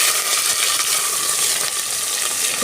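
Onions and urad dal with dried red chillies sizzle steadily in a hot pan over a village wood stove, a continuous loud frying hiss with light stirring scrapes throughout.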